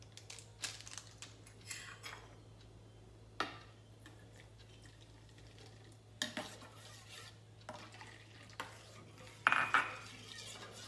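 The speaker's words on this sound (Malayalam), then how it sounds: "അത് നമുക്ക് തിളച്ച വെള്ളം ഇട്ട് മിക്സ് ചെയ്ത് ആദ്യമേ അത് വയ്ക്കണേ" Instant coffee powder being stirred into boiling water in a cup: quiet, irregular clinks and scrapes of a spoon against the vessel, with a few sharper taps near the end and a faint steady hum beneath.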